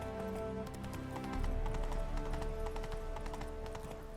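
Roach, the horse in the video game The Witcher 3, gallops with rapid, rhythmic hoof clip-clops that hold steady and close throughout, over a low game background.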